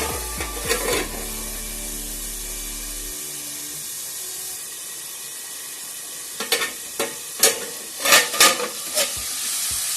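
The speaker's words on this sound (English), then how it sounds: "So I'll just cover and fry this for some time." Ingredients for khichdi fry in a pan, sizzling loudly and continuously up close, broken near the end by several sharp clinks and scrapes of stirring against the pan, with no talking.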